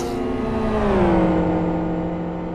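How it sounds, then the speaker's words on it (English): A GT World Series 2014 race car's engine holds a steady loud drone, then its pitch sags and winds down as it cuts out while running low on fuel. No voices are heard. "you can already hear his engine cutting out"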